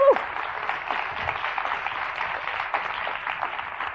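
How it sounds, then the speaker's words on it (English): Steady applause from a group of people, a continuous patter of clapping with a faint cheer at the start. "Yes, please clap."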